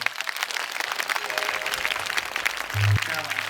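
An audience at a Home Minister stage event in Parli Vaijnath breaks into dense, continuous applause, with a voice speaking over the clapping.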